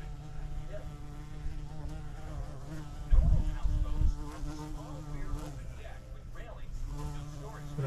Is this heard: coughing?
no